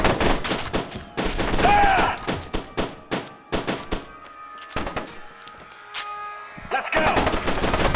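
Rapid automatic gunfire bursts from the shooter game F.E.A.R. 2, loud and close, repeating in stuttering volleys with metallic clangs and brief pauses between bursts.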